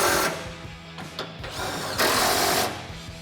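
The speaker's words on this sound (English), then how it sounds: "We're gonna grab our impact extension and 18mm socket and tighten those 2 down." An impact wrench with an extension and 18mm socket tightens grille guard bolts on a 2014–2018 Silverado 1500. Several close, loud buzzing bursts are broken by short pauses.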